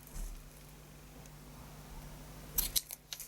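Scissors trim the ends of shimmer ribbon for a bow on a paper-craft gift box, a few quick, crisp snips near the end after quiet handling.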